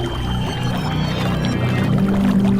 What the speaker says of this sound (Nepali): मध्यरातमा कतैबाट पानी बगेको जस्तो आएको आवाजले उसको आँखा खुल्यो।